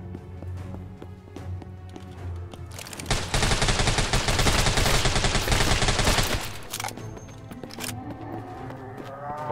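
Rapid bursts of gunfire in the Chinese free-to-play zombie shooter Deathly Stillness, a dense sustained volley in the middle over a background game soundtrack, loud and close.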